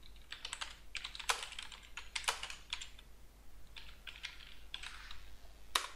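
Typing on a computer keyboard, close and fairly quiet, with quick irregular bursts of key clicks separated by short pauses, no voices.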